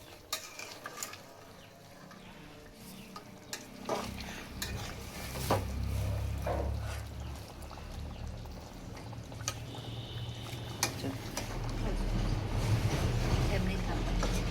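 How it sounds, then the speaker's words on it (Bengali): Chicken and potato kosa curry being stirred in a pan, scraping and clinking spoon strokes over a soft sizzle, irregular and close, with someone talking at times. "মাংস আমার প্রায় হয়ে গেছে, একটু নেড়ে দেখব।"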